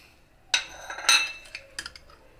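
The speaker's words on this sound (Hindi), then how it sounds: "अब हम इसे अच्छे से मिक्स कर देंगे।" A kale and chickpea vegetable salad is tossed in a bowl, with a utensil clinking against the dish in a few close, fairly quiet knocks and scrapes.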